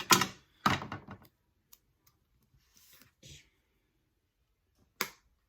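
A few crisp snipping clicks from scissors close by, with quiet gaps between the cuts.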